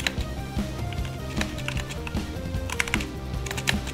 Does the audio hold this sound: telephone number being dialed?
no